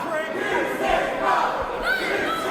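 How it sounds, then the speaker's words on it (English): A wrestling crowd in an uproar, a dense, continuous roar of many voices shouting and jeering, steady and fairly close throughout. "This crowd is incensed."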